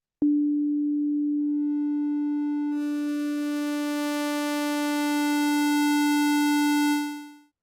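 A synthesizer holds a single steady tone that grows brighter as it moves through different waveforms, gaining a stack of overtones partway through, then fades out, clean and alone with no talk.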